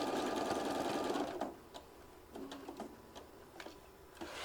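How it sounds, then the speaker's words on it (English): Sewing machine stitching a quarter-inch seam around a folded Velcro heart case, a fast steady whirring run that slows and stops, then a few scattered mechanical clicks and short bursts up close. "Right, so let's get this stitched all the way around."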